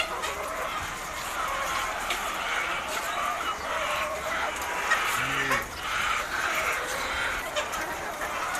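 White laying hens in caged rows on a poultry farm cluck and murmur softly, a layered background chorus of fowl with occasional louder calls, amid faint farm noise and some speech.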